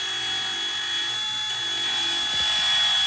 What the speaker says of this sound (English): Eliminate them, break them off, grind them down nice and flat.